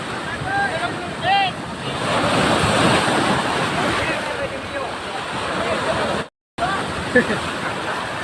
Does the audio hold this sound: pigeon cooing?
no